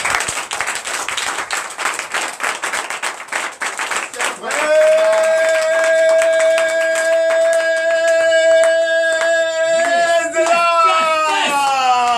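Clapping and applause from a church congregation at a Sunday service in Benin for a few seconds, then a sustained musical tone with harmonics rings out over continued noise.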